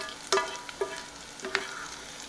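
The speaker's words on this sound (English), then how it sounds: "So we're just going to saute that for a few minutes." Green onions sauté in a pan, giving a soft steady sizzle with a few brief scraping stirs, close and fairly quiet, with no talking.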